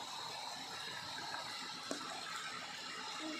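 Steady, soft rushing of a clear stream in Sikkim, a continuous babble with no pauses and no voices.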